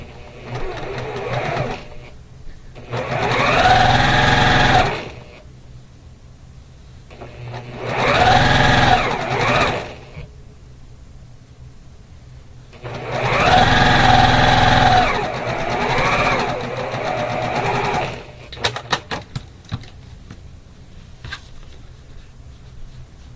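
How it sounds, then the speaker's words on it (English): A sewing machine stitching quilt blocks together in four loud, close runs of rapid needle chatter, separated by quiet pauses, with a few light clicks and handling sounds near the end. "So I'm going to finish sewing these together and then press them"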